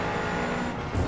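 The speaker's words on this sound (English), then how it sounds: "Car on your right." Race car at Mugello circuit droning steadily as it passes close on the right, a loud engine whine from inside a cockpit that swells briefly near the end.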